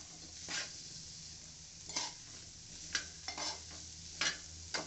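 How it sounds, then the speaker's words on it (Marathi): Cauliflower and potato being stir-fried in a pan give a soft, steady sizzle, broken by about six quick scraping stirs of a spatula at irregular intervals. "त्यामध्ये आपण आता घालूया फ्लावर बटाटा। परतून घ्या।"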